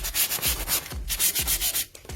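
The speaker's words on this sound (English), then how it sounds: "rub these wrinkles right out." Steady rhythmic rubbing of decoupage paper over a box being made over, a close scratchy back-and-forth swish repeated about a dozen times with no talking.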